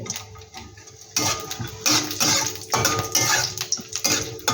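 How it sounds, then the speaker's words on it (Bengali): Raisins and peanuts are stirred and fried in a pan for a Diwali stuffed sweet, with repeated clinking and scraping of a utensil against the pan in short bursts, close and fairly loud, with no talk. "এগুলোকে একটু আমি ভালো করে ভেজে নেব।"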